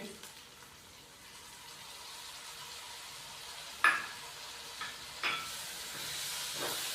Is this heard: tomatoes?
yes